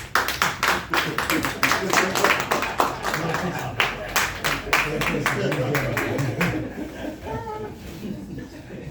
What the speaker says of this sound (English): You clap for him. Yes, just clap.